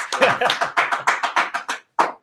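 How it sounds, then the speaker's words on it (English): A small group claps briefly, about a dozen crisp close hand claps in an uneven rhythm, then a short pause and one final clap. "Let's give Jason a round of applause."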